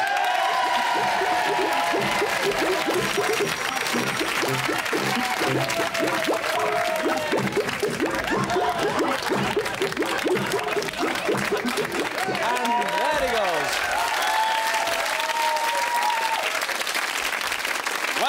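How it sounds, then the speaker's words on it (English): A television studio audience at a comedy variety show applauds a novelty act, a thick continuous roar of clapping lasting throughout, with a voice talking over it. "a big round of applause for Mr. Wobbly Hand"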